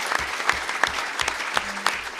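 An audience at a City Club of Chicago panel event applauds a newly introduced panelist, a short burst of dense, steady clapping filling the room without talk.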